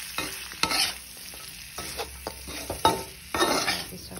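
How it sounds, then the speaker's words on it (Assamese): Pork with fermented bamboo shoot fries in a pan, a close sizzle broken by several sharp stirring scrapes and clatters of a spatula against the pan, with no talking over it. "এতিয়া অলপ ভাজি ল'ম"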